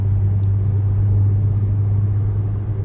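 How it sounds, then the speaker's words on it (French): Car with a renovated VR6 engine on a road test, a steady loud low engine rumble from inside the cabin, droning evenly throughout with no talking. "Bon, petit essai routier comme je t'avais promis."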